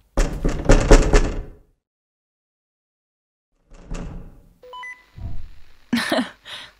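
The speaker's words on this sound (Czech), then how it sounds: "Zaklepu na dveře a ty následuj zvuk." Knocking on a door in The Tartarus Key, a quick cluster of loud hollow knocks, a long silence, then a few more thuds with a short tonal chime between them.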